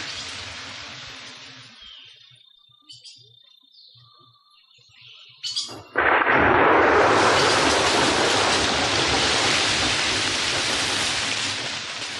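Rain falls in an equatorial Amazon rainforest: a quiet stretch with faint bird calls gives way to a sudden heavy downpour, a dense loud hiss that holds steady to the end.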